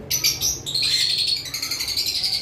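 Lovebirds at a bird farm chirp and tweet in a dense, continuous chorus, with several high calls overlapping up close and no voices.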